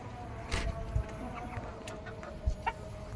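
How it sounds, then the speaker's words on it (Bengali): A few short hen clucks pop up at irregular moments over a quiet farmyard background, soft and fairly close. "এদিকে হচ্ছে আমার মুরগির এখনও ডিম পাড়া পুরোপুরি ক্লিয়ার হয় নাই"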